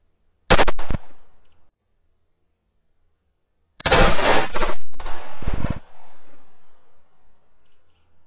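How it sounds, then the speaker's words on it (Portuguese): A pistol fires reloaded ammunition into a block of soap at a hot shooting range. One sharp, loud blast is followed by silence, then a longer, noisier burst that rings out and decays. "Disparo de munição recarregada no meio do sabão."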